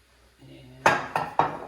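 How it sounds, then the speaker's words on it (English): Meat being put back into a cooking pot on a switched-off stove, three clear metallic clanks and scrapes of a utensil against the pot after a quiet moment. "So we'll put our meat back in there."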